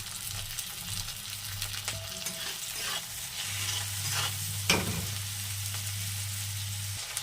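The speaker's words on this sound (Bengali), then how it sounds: "পেঁয়াজটা হালকা করে ভেজে নিয়েছি, এবার দিয়ে দেবো টমেটো, আর দিয়ে দেবো 1 চামচ লবণ।" Onion and tomato fry in a pan with salt added, giving a steady close sizzle with stirring scrapes and a loud clank partway through, over a low constant hum.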